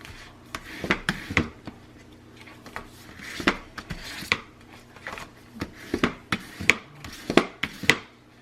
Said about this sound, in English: we're going to burnish that down